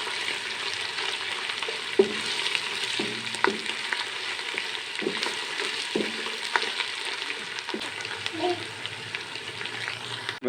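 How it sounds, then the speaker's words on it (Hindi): Ginger garlic paste fries in hot ghee for matar pulao, giving a dense, continuous sizzle with occasional stirring clinks and scrapes, close up and moderately loud. "घी गरम है नाज़रीन, अदरक लहसुन पेस्ट को आप ज़्यादा टाइम न दिया करें"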